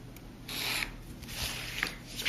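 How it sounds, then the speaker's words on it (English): A scoring tool drags along a ruler across regular-weight scrapbooking paper, producing one soft, close scratchy rub lasting about two seconds. "drag it along the ruler just once"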